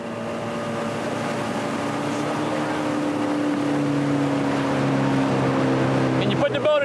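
A police boat engine drones steadily at a low, even pitch on the water near Miami, loud and close, with a brief clatter near the end.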